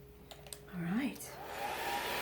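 A hair dryer blowing on vinyl lettering switches on after a few soft clicks, rising into a loud, steady close-up whoosh and motor hum that continues to the end.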